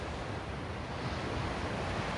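Monsoon-season waves on a Mangalore beach make a continuous, even roar of surf with no distinct breaks and no voices.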